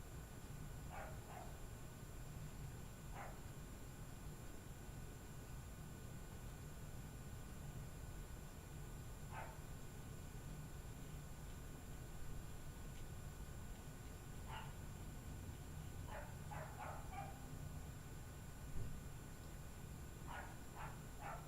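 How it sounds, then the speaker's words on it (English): Indoors at home, a dog barks in short separate bursts now and then, faint and distant behind a steady hiss of room noise, with long quiet gaps between the barks. "You might hear my dog, my granddaughter's dog in the background."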